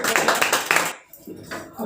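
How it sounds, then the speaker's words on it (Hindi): Audience clapping for Prince Kumar, winner of a live quiz competition, a dense burst of hand claps that stops abruptly near the middle, followed by quieter room sound and a faint resumption. "आप एक बार और हो जाए प्रिंस कुमार के लिए जोरदार तालियां"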